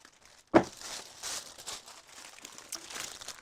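Tissue paper being unwrapped from a Black Friday purchase, starting with a sharp crinkle and then continuing as soft, close rustling and crackling for several seconds.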